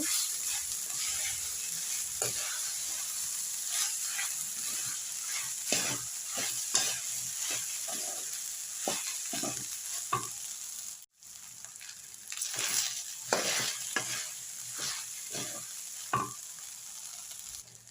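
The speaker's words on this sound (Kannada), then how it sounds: "ಅನ್ನ ಹಾಕೊಂಡಿದ್ದಾಗಿದೆ ಇವಾಗ ಮಿಕ್ಸ್ ಮಾಡ್ಕೊಬೇಕು" A spoon repeatedly scrapes and knocks against a pan as cooked rice is mixed with coconut masala over low heat. A faint sizzle runs underneath, and after a brief pause the stirring picks up again. No one speaks.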